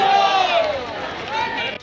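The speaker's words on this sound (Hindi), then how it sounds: "मोहन यादव जी को जोरदार तालियों के साथ आए और हम सबको संबोधित करें।" A large crowd at a BJP political rally in Ranchi for Chief Minister Mohan Yadav cheers and shouts loudly and continuously. The voices form a dense, sustained roar that dips briefly in the middle before rising again.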